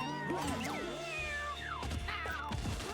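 Several cartoonish cat meows and trills from the Mewgenics video game, overlapping one another over a steady low background music bed, close and fairly loud throughout.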